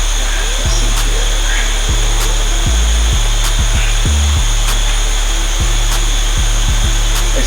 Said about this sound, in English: My compressor is leaking,